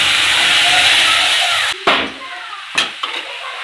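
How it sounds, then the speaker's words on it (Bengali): A loud, broad hiss of hot tempering in a pan cuts off abruptly as yogurt and gram flour batter is poured in, then a few soft stirring knocks follow over a subdued sizzle, with no speech. "ফোড়নটা হয়ে গেলে আমি এই দই আর এর গোলাটা ঢেলে দেবো"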